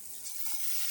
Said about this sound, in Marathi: बघा आता आपण गॅस मोठा केलाय जेणेकरून फोडणी चांगली बसायला पाहिजे. अगदी अशी सणसणीत अशी चरकन आवाज यायला पाहिजे.